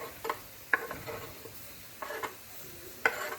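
A spoon stirs curry chicken and green beans in a sizzling pan, several scraping strokes spaced irregularly over faint frying.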